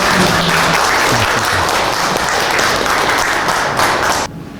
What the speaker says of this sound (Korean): 일단 박수로 크게 환영합니다.